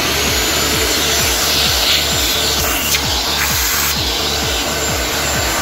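Electrolux vacuum cleaner switched on and running, a loud, steady whooshing motor whine with a rhythmic low throbbing underneath, close and continuous for the whole stretch.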